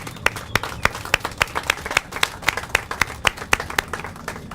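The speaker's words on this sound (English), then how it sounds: "It deserves a little applause" Sparse audience applause at a city homelessness response meeting, a few people clapping in a steady ragged rhythm, fairly close and moderately loud, with no speech over it.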